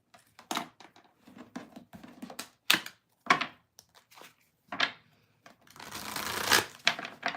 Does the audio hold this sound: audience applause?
no